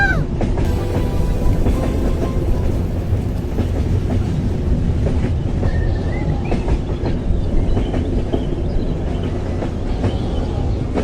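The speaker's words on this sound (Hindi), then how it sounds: "ट्रेन पास आ रही है।" A miniature train approaches and passes through a village model scene, a continuous loud rumble with rhythmic clickety-clack of wheels on track and occasional higher squeals.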